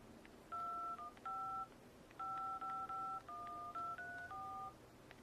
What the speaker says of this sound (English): Phone dialer application.